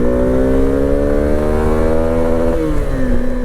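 A Suzuki V-Strom 250 motorcycle accelerating hard in second gear, its engine note climbing steadily in a loud close rising whine, with a brief dip and recovery near the end.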